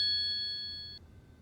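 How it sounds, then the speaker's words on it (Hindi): A phone rings in a home during a tense domestic scene, a steady electronic tone holding for about a second before cutting off, leaving faint background hum. "वो ये फोन पता नहीं कब से बज रहा है।"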